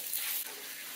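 Chorizo cooks in a pan with a steady, close, bright sizzling hiss that holds throughout a single short moment.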